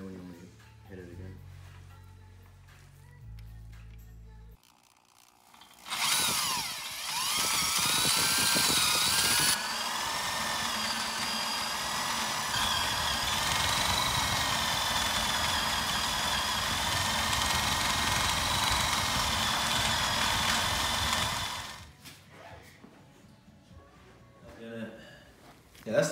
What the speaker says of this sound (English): Now we're gonna start drilling.